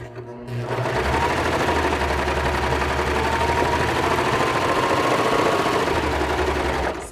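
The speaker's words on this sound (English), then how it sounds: "So let's put this over here in the serger" A serger overlocker stitches knit fabric in a steady, loud mechanical whir that holds even for several seconds after a brief start-up and stops at the end.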